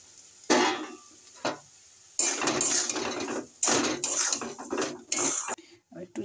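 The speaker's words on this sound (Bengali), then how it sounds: "এবার আমি সুজিগুলো দিয়ে দেবো।" Semolina tipped into a pan holding green chillies and chopped ginger and stirred, with bursts of metal scraping and clattering against the pan separated by short pauses, close and fairly loud.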